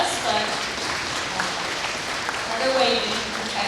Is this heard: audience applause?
yes